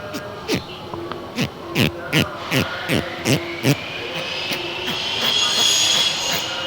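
A series of sharp, rhythmic squeaks from a cleaned rubber seal on a rear disc brake caliper, about a dozen in quick succession, followed by a rising hiss with faint voices underneath.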